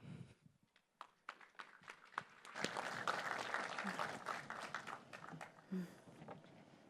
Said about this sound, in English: Let's give Pete and Yohann another round of applause.